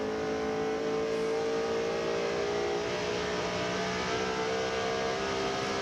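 A NASCAR stock car coasts down the straightaway at the 1998 Southern 500 at around 8,400 RPM, its engine holding a steady, even, high-pitched drone throughout, with no voices.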